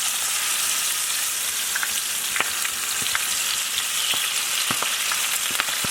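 A handful of spinach frying with garlic in a hot pan, a continuous close sizzle dotted with sharp crackles and pops, no voices.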